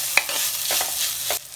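Ingredients for a Thrissur-style raw mango curry in coconut milk being sautéed in a pan, a loud, continuous sizzle with a few spatula scrapes, close by and without talk.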